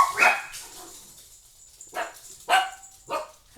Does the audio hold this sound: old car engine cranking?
no